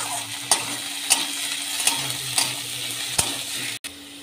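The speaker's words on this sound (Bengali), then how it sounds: "এই যে পেঁয়াজটা ভাজা হয়ে গেছে, এবার আলুগুলো দিয়ে দেবো।" Potatoes frying in oil with fried onions, green chilli and whole spices, a steady close sizzle broken by regular sharp scrapes of a spatula stirring the pan, about once every half second to second.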